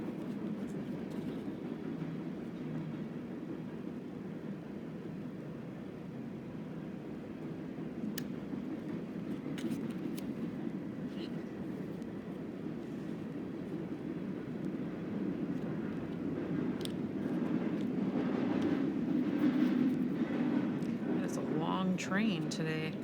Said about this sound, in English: Train today.